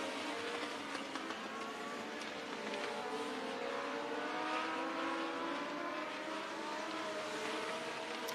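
Outlaw figure 8 race cars lap a speedway during practice and qualifying, their engines roaring loud and continuous with overlapping revving tones rising and falling as cars pass, and no talk over them.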